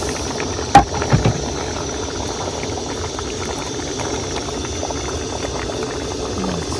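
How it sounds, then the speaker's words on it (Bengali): Curry broth bubbles at a steady boil in a pot, with a continuous close gurgle and a couple of sharp knocks near the start. "তরকারির ঝোল ফুটে গেছে"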